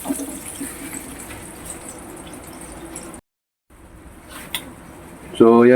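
Water poured into a cooking pot, a soft continuous splashing trickle at low level, broken by a short silence and followed by a louder clatter at the end.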